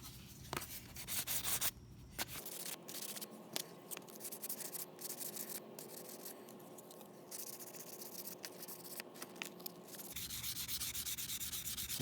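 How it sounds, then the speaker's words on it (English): Fine 400-grit sandpaper lightly rubs over a painted Chevrolet badge, a quiet, close scratchy scuffing in short irregular strokes with brief pauses. "I'm just going to lightly sand these areas where the paint didn't quite stick."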